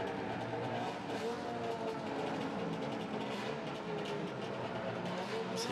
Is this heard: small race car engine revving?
yes